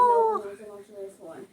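A dog howls close by, a drawn-out wavering tone that slides downward and then rises again in a second, shorter howl, with no speech over it.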